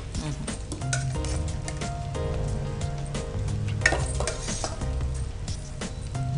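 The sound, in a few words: adding onions to a cabbage biryani pot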